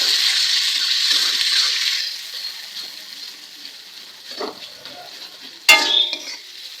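Spoon stirring and scraping through mutton curry with onion in a hot frying pan, steady sizzling oil that eases off, then a sharp metallic clink near the end.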